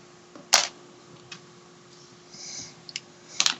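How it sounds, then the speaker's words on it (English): A sharp snip of wire cutters cutting jewelry wire for a key fob, one crisp loud click near the start, a few smaller clicks and a final snip later, close and alone. "Cut it off with your snips."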